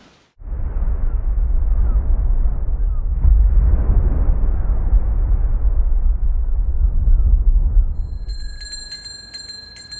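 A simulation of ocean waves as they might sound on Mars: a dull, muffled, steady low rumble that holds for several seconds at fairly high level. Faint ringing chime tones then come in near the end.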